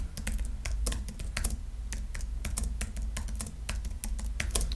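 Rapid typing on a computer keyboard, a steady run of sharp, close key clicks with irregular rhythm and no voice over it.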